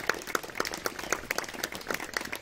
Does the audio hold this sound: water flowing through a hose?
no